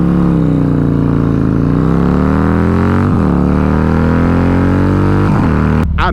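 A Harley-Davidson Street Glide performance bagger accelerates hard from a standstill, its loud, close engine drone rising steadily in pitch through several gear shifts, heard alone without speech.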